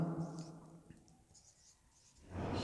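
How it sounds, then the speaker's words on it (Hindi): Marker or chalk scratching as a sentence is written on a classroom board during an English grammar lesson, a close, fairly loud stroking sound lasting about two seconds, then a brief quiet gap before talk resumes. "तो मैं इसको अब दोबारा लिखता हूँ।"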